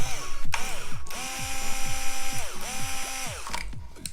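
A Piranha cordless screwdriver with a reversible bit motor whirs in repeated short runs, its pitch rising and falling as it spins up and stops, loud and close with no talk.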